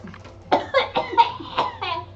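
A voice imitates a small child's cough, giving several short, wet coughing bursts in an uneven rhythm, close and fairly loud with no other talk.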